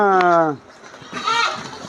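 Young goat kids on a raised slatted platform farm bleat loudly and close, one sustained cry followed by a second shakier bleat, with faint background noise.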